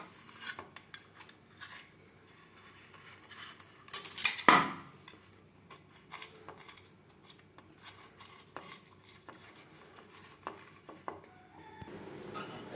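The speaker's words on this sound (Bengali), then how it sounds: "এইভাবে একটা চামচের সাহায্যে 4 সাইডটা ছাড়িয়ে নেব।" A spoon scraping around the sides of an idli mould to loosen the steamed idli, making light metallic scrapes and taps throughout, with one louder clatter near the middle.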